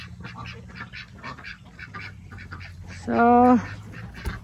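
A Muscovy-cross duck gives a single short, loud honking call partway through, following a brief spoken word and softer background noise.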